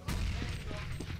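Grenade blast in a Counter-Strike match during a Virtus.pro tournament round, a dense continuous burst of gunfire-like crackle and low rumble lasting about a second under the game's din.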